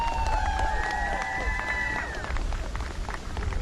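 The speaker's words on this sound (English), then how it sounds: "Give yourselves a round of applause." Families and fans at an Everett, Massachusetts homecoming football game against Lynn English cheer and clap, with shrill rising whistles over a rumbling crowd and chatter that gradually thins out.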